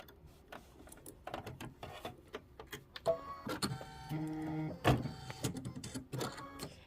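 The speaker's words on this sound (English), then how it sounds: "And we are going to stitch the zipper pocket lining tack down." A home sewing machine stitches a zipper pocket lining tack-down on a roll-up pouch, starting with light ticks and clicks and then settling into a buzzing motor hum in short, uneven bursts.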